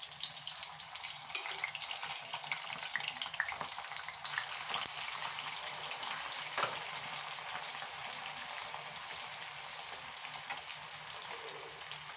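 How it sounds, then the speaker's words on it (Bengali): French fries frying in hot oil make a quiet, steady, crackling sizzle with faint bubbling, continuous and without any talking. "এটা ফ্রেঞ্চ ফ্রাই বানাচ্ছি আমার ছেলের জন্য"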